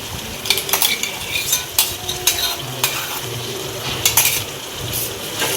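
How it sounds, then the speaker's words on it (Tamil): Ginger garlic paste is stirred into onions, tomatoes and green chillies frying in oil for Nellai chicken biryani, with repeated close metal spoon scrapes and clinks over a steady sizzle. "இதை நல்லா இப்படி மிக்ஸ் பண்ணி கிண்டணும்."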